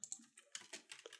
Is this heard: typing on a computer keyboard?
yes